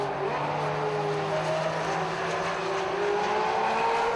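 Race cars including a Ferrari 360 Modena, Porsche GT3 and Honda Type R lapping Fuji Speedway, a continuous engine drone with rising and falling tones as the cars run through a section, steady and fairly loud.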